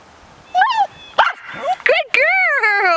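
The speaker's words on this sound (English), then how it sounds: "We got some barks out of her!" A dog at home giving a few short excited barks and yips, sharp and close, spaced out with quiet gaps between them.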